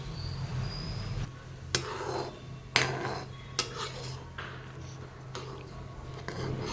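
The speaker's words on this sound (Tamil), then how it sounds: "ரவையை கொட்டினதும் கொஞ்சம் அப்படியே கிளறி விடுங்க." A utensil stirring semolina in a pot of boiling water, scraping and knocking in several sharp taps and stirring strokes, quiet and close, over a low steady hum.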